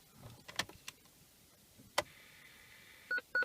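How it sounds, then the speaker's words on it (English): Two short electronic beeps near the end from a faulty parking sensor on a BMW E46 Touring, after a few scattered clicks and taps, with faint background noise. "It's not a long beep, so it's just because there's something behind it."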